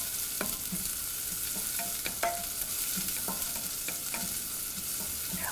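Shallots sautéing in a pan, a steady close sizzle of frying with repeated scraping stir strokes at irregular intervals, no voices.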